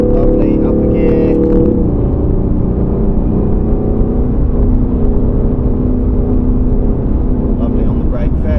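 A supercar engine drones loud and close as it pulls through the gears on the Silverstone circuit, steady and whirring, with an instructor talking over the cabin noise.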